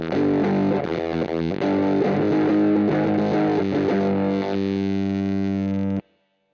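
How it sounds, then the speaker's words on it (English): A guitar played through a DIY pedal with zener diode clipping gives a harsh, buzzy fuzz, sustained chords ringing loudly for several seconds before cutting off abruptly. "Gives a really harsh fuzz."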